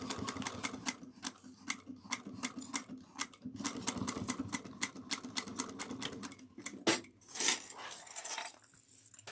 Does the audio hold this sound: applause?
no